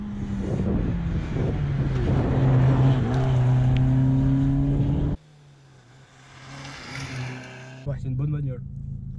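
A Peugeot 106 small hatchback engine drones steadily while driving, loud and continuous for about five seconds, then drops to a quieter hum with a brief rise near the end.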